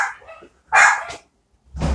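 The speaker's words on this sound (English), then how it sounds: "I'm gonna see what my dogs are barking at." Dogs bark close by in short separate bursts: one at the start, a loud bark just before the midpoint, and another at the end, with brief silences between.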